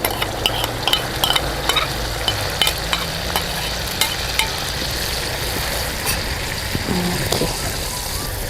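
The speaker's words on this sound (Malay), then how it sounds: "So yang ni kena tumis bagi lama sikit lah." Ground spice paste stir-fried with crisped onions for shellout: a loud, dense sizzle runs throughout, punctuated by regular scraping knocks of a utensil stirring in the pan, close up with no talk.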